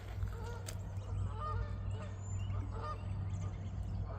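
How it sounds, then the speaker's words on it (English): Geese honking repeatedly in the background on a foggy morning, a loose chorus of calls over a steady low engine hum, fairly distant and moderately quiet. "Geese in the back."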